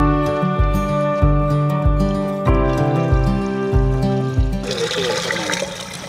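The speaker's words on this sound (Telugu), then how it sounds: "ఇప్పుడు మళ్ళీ దీంట్లో ఈవినింగ్ పెడ నీళ్ళు అయితే పోతున్నాము." Cow dung slurry water pours into a home-built biogas plant, a rushing, gushing wash rising over the last second and a half, after a stretch dominated by loud rhythmic background music.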